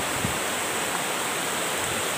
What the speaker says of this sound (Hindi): खूबसूरत चश्मा, तेज पानी है ऊपर से जी